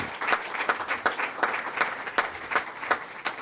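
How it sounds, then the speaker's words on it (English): A crowd applauding steadily, dense overlapping claps at a lively, even pace with no voices. "let's give him a round of applause"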